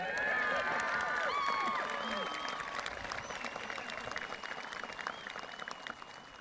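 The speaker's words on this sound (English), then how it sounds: "Go ahead and applaud." A graduation ceremony audience applauds, a dense wash of many hands clapping at a distance. It starts full and strong, then slowly thins and softens over several seconds, with faint cheers mixed in.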